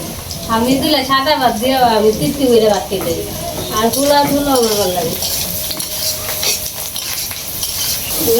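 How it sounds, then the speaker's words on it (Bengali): In a pan, onion, garlic and ginger paste with turmeric, salt and chili powder sizzle and fry while a spoon scrapes and stirs against the metal, close and loud. A person talks over the cooking. "পেঁয়াজ বাটা রসুন বাটা আদা বাটা আর হলুদ লব মরিচ গুঁড়া একসাথে কষাই নিতেছি"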